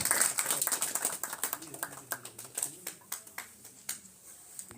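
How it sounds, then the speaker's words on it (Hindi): Applause welcoming a speaker at a gathering, a thin scatter of sharp individual claps at an uneven pace, fairly faint, over a low background of voices. "जोरदार तालियों के साथ"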